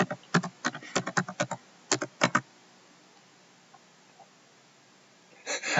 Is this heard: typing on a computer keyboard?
yes